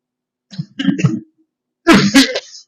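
A few harsh coughs close by, a short burst first, then a louder, rougher cluster after a pause.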